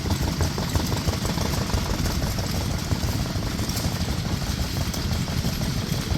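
A running replica of an old engine, built from original drawings and shown at a historic machine restoration rally, chugs steadily with an even, pulsing rumble throughout.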